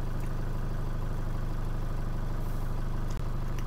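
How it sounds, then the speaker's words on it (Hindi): A Tata Xenon pickup's 3000 cc diesel engine idling, a steady, close, low rumbling drone with an even throb and no change in pace. "रॉ डीजल इंजन आप देख सकते होंगे"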